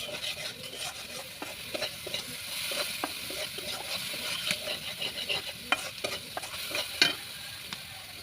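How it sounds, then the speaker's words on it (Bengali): Spice masala and shrimp stir-fry in a pan, with a continuous sizzle broken by repeated scraping stirs and spatula taps, close and fairly loud, with no voices. "এই মশলাটা কিন্তু অনেকক্ষণ কষাতে হবে"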